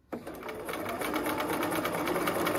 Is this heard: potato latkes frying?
no